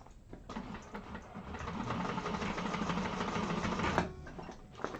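A sewing machine stitches the seam of an Alexandra bag, a steady continuous mechanical whir running throughout at moderate loudness, briefly easing near the start and around the four-second mark.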